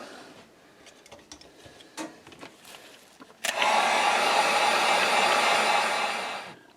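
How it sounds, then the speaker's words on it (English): A hair dryer blows on freshly painted fishing lure, starting abruptly after some quiet handling clicks and running as a steady, fairly loud whoosh for about three seconds before cutting off. "I'm going to dry this good because we're going to put a wrap."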